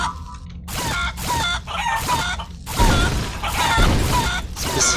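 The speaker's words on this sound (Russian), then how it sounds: "Легендарная курица." A legendary chicken in Guacamelee 2 clucks and crows in repeated bursts. The calls sit over loud game music and booming effects, with gaps between phrases.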